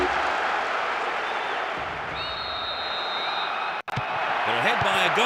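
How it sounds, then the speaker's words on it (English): In the PES 6 football video game, a capacity stadium crowd applauds and cheers after a goal, a dense steady roar that runs throughout. A commentator talks over it, and there is a brief dropout near the end. "The capacity crowd are enjoying."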